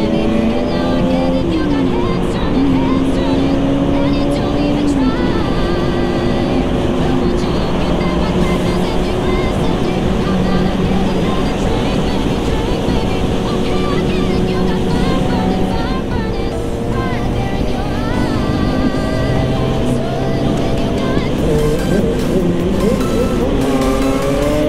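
A Yamaha motorcycle engine revs loudly and close by, its pitch climbing and falling through repeated throttle blips over a sustained rough drone.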